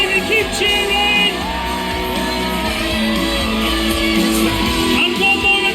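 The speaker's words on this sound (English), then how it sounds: "Everyone make some noise, get your hands in the air and cheer for these guys!" A crowd at the Isle of Man Senior TT podium cheers, yells and whoops continuously, a loud dense wash of voices with scattered shouts rising above it.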